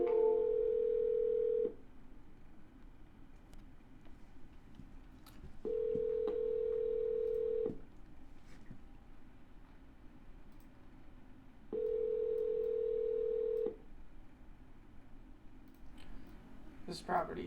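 A phone line redialing a rural property with no answer, three long steady ringback tones separated by quiet gaps, faint and alone with a few small clicks.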